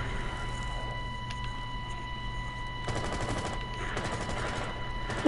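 Bursts of rapid gunfire in a video game, an enemy shooting at the player, crackling over a steady game hum and growing denser toward the end, with no one talking over it.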